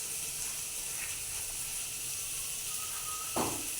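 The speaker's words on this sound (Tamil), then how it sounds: "இப்போ ஒரு வதக்கு நல்லா ஹை ஃப்ளேமில் வச்சு வதக்குறோம்" Onions, garlic and curry leaves sauté over a high flame in a pan, a steady broad sizzle that hisses continuously, with a brief scrape or clink near the end.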